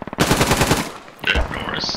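Enemy machine-gun fire in the military shooter game Squad comes as a dense, rapid burst of loud automatic shots, followed by scattered noisy game sounds.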